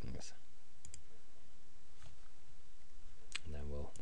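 Sharp, isolated computer mouse clicks while selecting light box style settings, several single and double clicks spread across a quiet background with a faint voice hum near the end.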